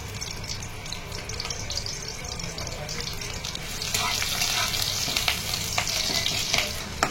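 Oil frying in a pan on a gas stove moved indoors to a home kitchen, a steady close sizzle that grows louder and busier partway through, with faint stirring and some water running in the background.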